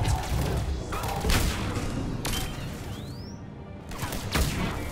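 Gunfire and explosions in the video game Mass Effect 3, heard as a few separate blasts and thumps spread through a steady background of game noise at moderate volume.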